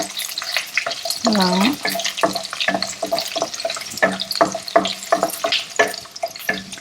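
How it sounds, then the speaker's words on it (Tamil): Garlic fries lightly in a pan for a Tamil Nadu egg omakuzhambu, giving a soft sizzle broken by repeated stirring and scraping clinks, with a short tonal sweep early on. "பூண்டு ரொம்ப ரோஸ்ட் ஆகக்கூடாது, லைட்டாக."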